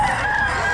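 Chickens and a rooster at a roadside market in Bocaue, giving a brief burst of crowing and clucking against a busy outdoor background.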